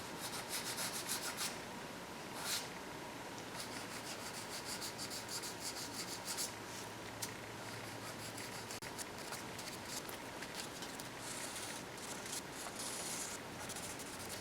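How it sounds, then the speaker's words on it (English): Hand sanding of a paint run on a freshly painted car bumper, steady soft rubbing strokes continuing close and quiet throughout with no talk. "Just trying to sand on the thickest part"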